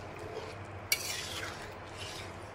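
A spoon stirs fish curry with fried fish and mixed vegetables in a pan, soft scraping and sloshing under a low steady hum, with one sharp metallic clink near the start.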